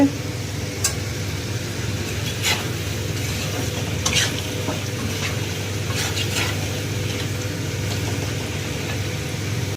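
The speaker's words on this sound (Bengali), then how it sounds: "এই দেখো আলুগুলো লাল লাল করে ভেজে নেব" Potato pieces fry in a pan until browned, a steady moderate sizzle with occasional clicks of stirring against the pan, heard close in a home kitchen.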